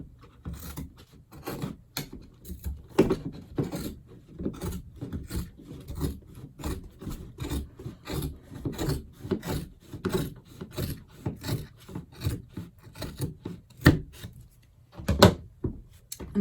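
Scissors or a rotary cutter slice through several layers of folded fabric for masks in a quick, irregular series of soft crisp snips and rubs, fairly close and quiet, with no talking.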